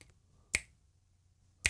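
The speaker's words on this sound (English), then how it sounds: "Finger snaps. A lot of finger snaps, okay?" Two crisp finger snaps, close and clean, about a second apart, against near silence.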